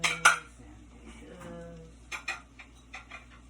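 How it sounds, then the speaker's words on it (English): Dirty dishes clatter and knock in short bursts as they are loaded into a dishwasher at home after cooking potato cakes, a couple of sharp clanks at the start and lighter rattles later, close by and fairly quiet. "So now I'm going to throw the dirty dishes into the dishwasher real quick."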